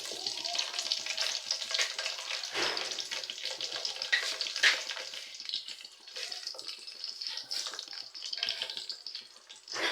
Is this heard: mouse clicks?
no